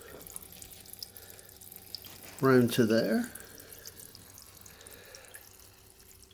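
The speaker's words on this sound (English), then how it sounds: "And I have my own little pump water supply." Water from a small pump-fed supply runs briefly into a sink in a workshop, a loud splashing burst of about a second amid a quiet hum, with a few faint spoken words at the start.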